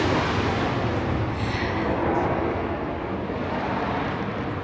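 A steady, loud roar of aircraft engines, broad and rumbling, holding constant throughout with no voices.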